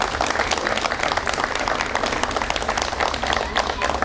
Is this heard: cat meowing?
no